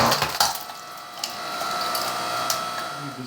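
A Wen 6.5 ton electric log splitter works a log, a steady motor drone with sharp woody cracks and splintering snaps scattered over a few seconds.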